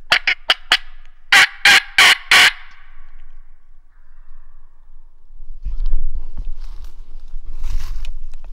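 A wild turkey gobbles from a distance in the woods, several sharp bursts in quick succession early on, followed by faint rustling and low rumble, no voices.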